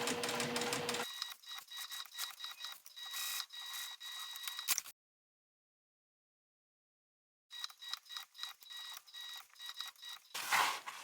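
Sewing machine stitching fabric for a quilt-style cut-and-sew project, rapid mechanical chattering in two bursts separated by a few seconds of silence, close and fairly quiet, with no talking.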